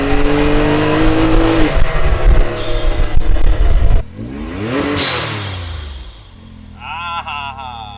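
A Can-Am X3 side-by-side fitted with an RPM blow-off valve revs hard, close and loud: a rising engine roar and sharp throttle blips, then a whooshing valve release as the revs drop and the engine settles to idle.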